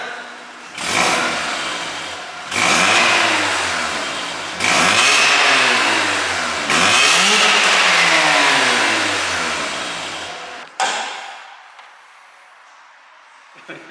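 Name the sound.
Mazda RX-8 engine revving while driving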